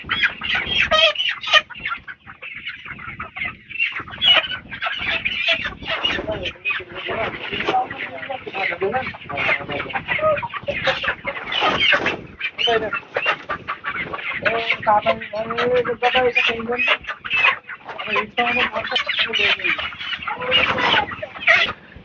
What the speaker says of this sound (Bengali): আমাদের এই পাশের ঘরের মুরগিটা আছে